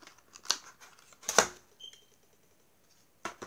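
Oracle cards being shuffled make crisp, brief papery snaps and riffles, three distinct bursts separated by quiet gaps, close and fairly soft, with no talking.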